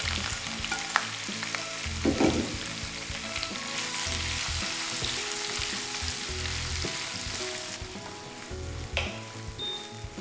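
Red chillies and a pinch of asafoetida sizzling in hot oil for red chilli pickle, a steady close frying hiss running throughout with occasional stirring scrapes and clicks.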